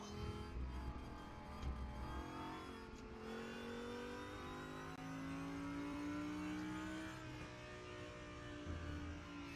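A race car engine in the video game RaceRoom revving and accelerating, its pitch rising and falling smoothly as it shifts, steady and up front with no talking.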